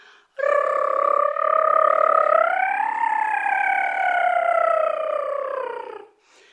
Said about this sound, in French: un R roulé.